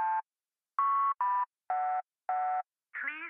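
Telephone keypad tones sound while a PIN is entered: five short, clear electronic beeps in an even rhythm, then a different wavering tone at the end.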